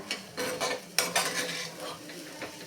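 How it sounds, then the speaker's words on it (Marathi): A spoon stirs crushed green chili and ginger into vatli dal in a pan, giving irregular scraping clinks against metal over a soft sizzle, close up. "आता यामध्येच आपण जी मिरची आणि आलं ठेचून घेतलेलं होतं ते घालून घ्यायचे मिक्स करून घ्यायचे"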